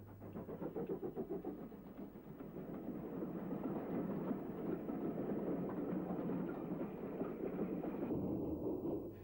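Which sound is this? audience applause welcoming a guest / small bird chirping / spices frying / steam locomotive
steam locomotive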